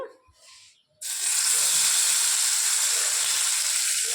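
Fish hits hot oil in a pan and bursts into a loud, sustained sizzling hiss after a brief quiet moment, continuing strongly to the end.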